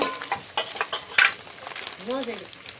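Pasta with coriander and salt being stirred in a pan over a gas flame, with a few close scrapes and clinks of a spoon amid faint sizzling, and a brief rising whistle-like tone near the end.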